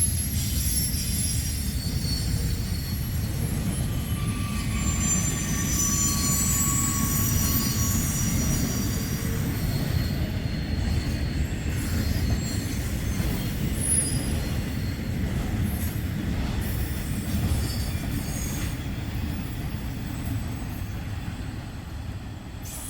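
A long freight train rolls steadily past at a trackside defect detector, a continuous loud rumble of wheels and cars with some high metallic squeal, sustained throughout with no talking.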